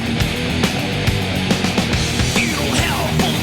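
Dense, loud heavy metal plays continuously, with fast pounding drum hits and distorted guitars filling the whole span.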